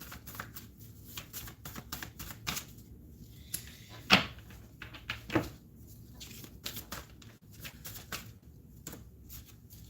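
Tarot cards are handled and shuffled during a card reading, giving irregular soft riffles and flicks with a couple of sharper snaps, quiet and close.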